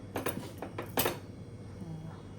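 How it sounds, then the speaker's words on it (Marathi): A metal lid set onto a cooking pot of beans gives a few quick clinks and a sharper clatter, close and fairly quiet, over a low kitchen hum. "झाकण ठेवायचं आहे"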